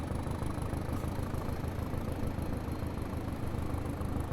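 The diesel engine of a Class 205 train in Train Simulator Classic drones steadily at a constant throb, with no talk over it.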